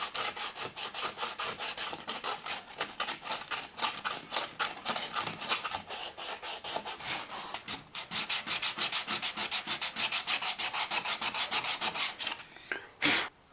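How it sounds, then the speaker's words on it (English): Hand-sanding the inside of a cracked MTD snow blower part to roughen the surface: rapid, steady back-and-forth scraping strokes, close and loud, with a brief pause partway through and a final few rubs. "Just going to rough this up a little bit inside."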